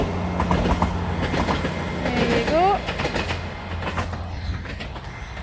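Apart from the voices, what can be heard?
train crossing a bridge, 9:48 Alness to Inverness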